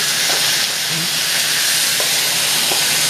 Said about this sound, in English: So the wok is hot and we're going to go ahead on and put our shrimp in here